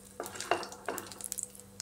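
Whole cinnamon, cardamom, cloves and cumin seeds fry in hot oil in a pan, soft sizzling broken by a few stirring scrapes and light clinks of a utensil, close up and without speech.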